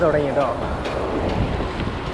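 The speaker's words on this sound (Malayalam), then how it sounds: "മഴയാണ് മഴ തുടങ്ങി" Rain begins on the Mysore–Gundlupet road near a toll booth, a steady patter and hiss with low rumbling underneath; a voice is briefly heard at the start.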